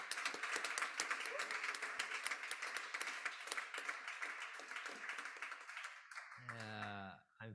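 Audience applause for a frame drum award winner at a festival concert, a dense sustained clapping that fills most of the stretch, then fades out as a voice begins speaking near the end.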